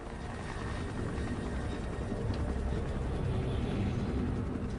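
Helicopter flying overhead above water, heard as a steady, dense broadband rotor and engine rumble that stays loud and constant throughout, with no voices.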